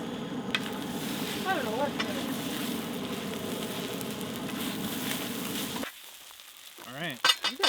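Eggs fry on high heat in a camp pan at a campsite, a steady close sizzle that cuts out near the end, with brief talk and chirpy sounds over it.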